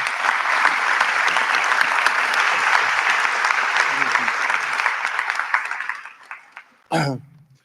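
A commencement and white coat ceremony audience gives sustained, loud applause that thins out and fades near the end, followed by a brief voice.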